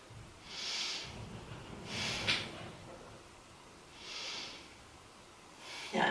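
Slow, deep breaths during a yoga pose, three soft airy exhalations spaced a couple of seconds apart, close and quiet with no talking.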